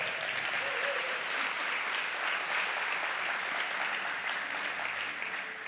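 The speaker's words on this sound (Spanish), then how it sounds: "Denle un fuerte aplauso." Steady, dense applause from an audience at a Bible institute graduation ceremony, honoring a graduate, sustained evenly throughout and fading slightly at the end.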